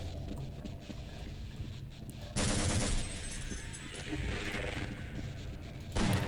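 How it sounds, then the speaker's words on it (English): Shotgun blasts in the video game Half-Life Blue Shift, fired at headcrabs: a loud, close burst of gunfire that lasts about half a second, then a second blast near the end over steady game background noise. "Shotgun works very well on headcrabs."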